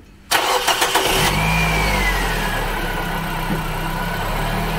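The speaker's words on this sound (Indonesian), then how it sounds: "Ini mobil saya hidupkan dulu ya." A used car's engine cranks and catches at once, then settles into a steady, loud idle with a faint whine running through it, close by and with no voices.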